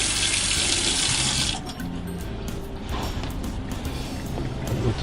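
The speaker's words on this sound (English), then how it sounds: "Make sure you give it a real good rinse." Tap water runs loudly into a sink while a cast iron frying pan is rinsed, a strong hiss that drops after a second and a half to a softer splashing stream with metallic clanks.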